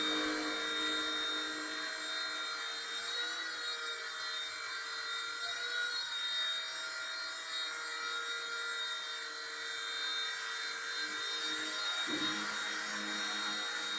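A Firefox C129 micro RC helicopter hovers nearby, its rotor and tiny motor producing a steady high-pitched whine with layered tonal hum that holds constant for the whole stretch, with a brief pitch dip near the end.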